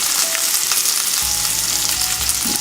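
Butter frying alongside carne asada in a hot pan, the heat lowered from high, giving a steady dense sizzle that thickens partway through, with no talking.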